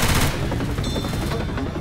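Rapid bursts of gunfire from a secondary weapon in the Left 4 Dead 2 video game, continuous and loud throughout with dense repeated shots and no talking.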